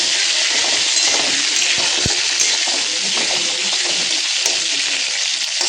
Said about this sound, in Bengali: তাহলে আম একটু ভেজে নিই হালকা